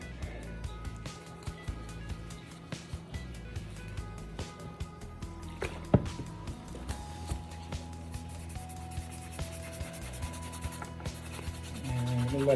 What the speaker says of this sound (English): Try to remove any extra dirt, oils from the sole.